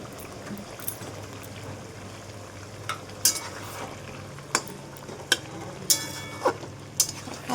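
Mustard chicken sizzles in a frying pan while a utensil stirs it, with a steady fry hiss and sharp scraping clinks against the pan coming every second or so. No one speaks.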